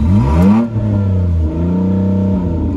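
A Chevy Cobalt with no catalytic converter revs loudly up close, its engine climbing in pitch to a peak then falling back and settling into a rough, droning idle.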